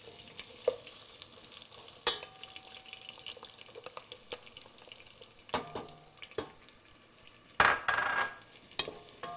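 Onions dropped into hot oil in a soup pot sizzle softly beneath scattered clinks and scrapes of a utensil, with a louder burst of frying near the end.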